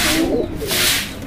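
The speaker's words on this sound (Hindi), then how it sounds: "देखिए सारे कबूतर देख के डर गए और आवाज़ें करने लग गए मुझे" Low, throaty pigeon cooing up close, a brief agitated alarm call with airy hiss and rustling around it.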